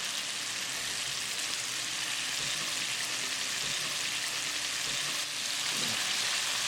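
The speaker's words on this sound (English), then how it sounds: "As you see, the fish pieces are nicely fried." Fish pieces for chilli fish fry steadily in hot oil, a dense, continuous sizzle that stays loud and even throughout with no voices.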